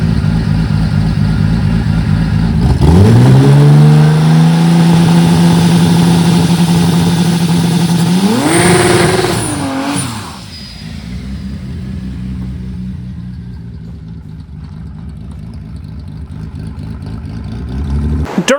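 A race car engine fires up in a driveway for a test run, settling into a loud idle, then rising in a sharp rev, dropping back, and fading to a lower rumble.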